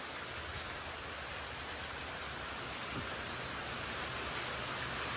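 Heavy rain pours down in a dense, steady hiss with no breaks. The downpour holds a constant level and grows slightly louder toward the end, with no voices.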